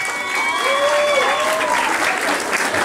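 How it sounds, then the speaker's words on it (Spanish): Wedding guests break into loud, dense applause after a toast, sustained clapping filling the room for nearly three seconds with a faint whistle or tone drifting over it. "Y fuerte el aplauso que se escuche."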